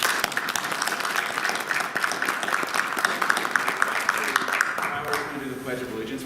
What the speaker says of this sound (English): So everyone wants to give a round of applause.